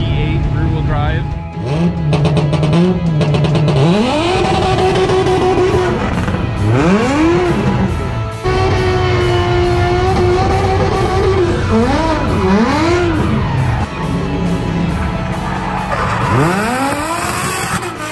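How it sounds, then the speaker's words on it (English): A rear-wheel-drive Audi S4 with a V8 engine revs loudly and repeatedly close by, rising and falling engine notes mixed with tire squeal throughout. "The Audi S4 V8 rear wheel drive."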